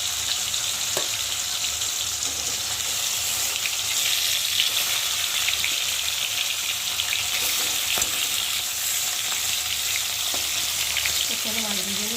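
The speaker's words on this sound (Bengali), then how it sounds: "মাছটা ভাজা হয়ে গেছে এক সাইডে" Fish frying in hot, smoking oil for a ridge gourd fish curry, a steady close sizzle and crackle running throughout with occasional utensil clinks and a few brief voice sounds near the end.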